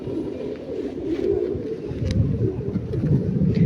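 Pigeons coo softly in low, throaty murmurs at a pigeon market in Pakistan, with a faint rustle and distant background noise and no talk.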